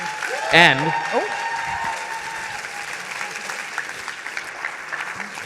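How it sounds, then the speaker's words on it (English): Audience applause for a speaker at a talk, steady continuous clapping of moderate loudness, with a short burst of speech from the stage near the start over the clapping. "Please give Miki Agrawal a big round of applause."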